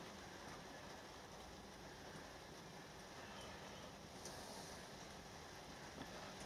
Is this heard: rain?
yes